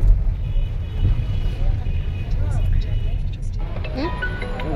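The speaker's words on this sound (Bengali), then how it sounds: "গাড়ি ঘুরাচ্ছে।" Car turning on a road, its engine a low steady rumble with light traffic noise around it while people talk nearby.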